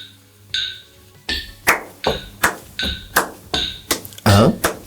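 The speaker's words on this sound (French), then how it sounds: "une déclinaison serait de taper uniquement les contretemps" Hand claps or taps beating a steady rhythm on the offbeats, about eight sharp, close hits evenly spaced, following a brief sung tone at the start.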